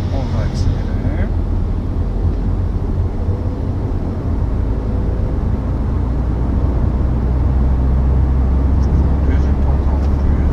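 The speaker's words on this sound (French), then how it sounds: "On remonte l'embrayage. On va accélérer." A manual car engine revs up after the shift into third gear, a steady loud low rumble throughout as the car pulls away, with a driving instructor talking over it.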